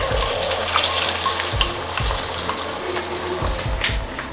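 Beaten eggs for an egg pasta fry in a hot wok, giving a loud, close crackling sizzle broken by repeated clicks and scrapes of a utensil against the pan, with no talking.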